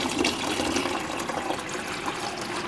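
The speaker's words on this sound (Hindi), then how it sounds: "भाई मैं इसे पहले 2-3 बोतल और डाल देता हूँ" Water is poured from bottles into a homemade cooler tank, a continuous splashing and gushing close by that stays fairly loud and steady for the whole stretch, with no talking.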